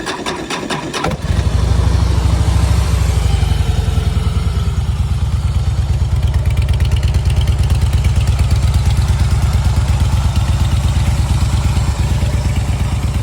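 Harley-Davidson Fat Boy motorcycle engine cranks and fires up, then settles into a loud, close, steady lumpy idle that runs unbroken to the end.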